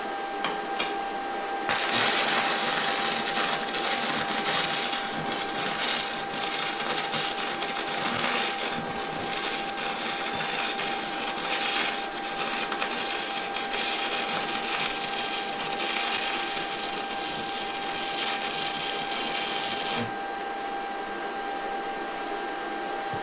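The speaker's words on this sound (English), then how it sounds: "now we should be ready to give it a try with the stick welder" An ANDELI MIG 135 PLUS stick welding on a mini skid steer, a loud continuous crackling buzz that holds steady for about eighteen seconds before cutting off, with no speech.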